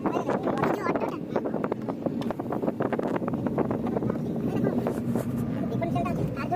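Cold wind gusts steadily against the microphone outdoors on a chilly day, a constant loud roar.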